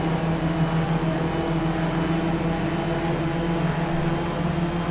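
Race car engines at Laguna Seca, a steady distant drone of several cars held at a fairly low level with no speech.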